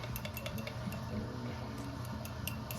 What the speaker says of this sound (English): stirring, because you really do want to make sure the blending is complete